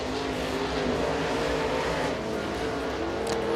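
A race car runs on Rome Speedway during qualifying, a loud, continuous engine drone with a steady tonal whine, close and sustained throughout.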